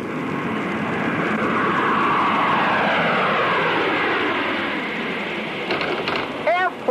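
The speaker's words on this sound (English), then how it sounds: "Airplane!" An airplane passes overhead with a broad, loud roar that swells and slowly fades over several seconds, ending under a burst of excited, high-pitched voices.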